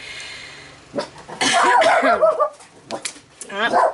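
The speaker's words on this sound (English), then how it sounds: "There my dogs go." Dogs bark in a few short bursts nearby, with one longer yelping stretch in the middle, fairly quiet overall.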